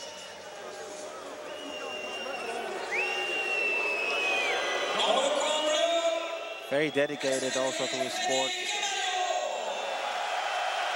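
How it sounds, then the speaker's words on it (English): Sold-out arena crowd at a K-1 kickboxing event roaring and applauding a fighter, a dense sustained wash of cheers and whistles with a commentator talking over it. "Kemayo gets a huge applause from this sold-out arena"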